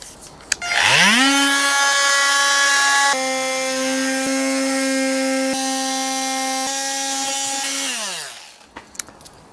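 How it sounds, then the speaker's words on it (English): An oscillating multi-tool cuts into a piece of wood for a custom shelf in a Sprinter van conversion, a loud steady high-pitched buzz lasting about eight seconds with slight pitch shifts as the blade bites, then winding down. "I'm going to cut them out with a multi-tool."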